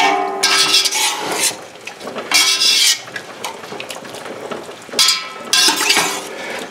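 Blanched cauliflower stirred into a vinegar seasoning mixture with vegetables and spices: loud, close bursts of scraping, clattering stirring in a bowl, coming in several waves with quieter gaps between, no talking.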